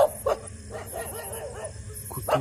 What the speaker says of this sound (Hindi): कुत्ते भी भौंक रहे